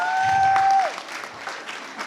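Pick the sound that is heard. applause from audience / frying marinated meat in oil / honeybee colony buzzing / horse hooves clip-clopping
applause from audience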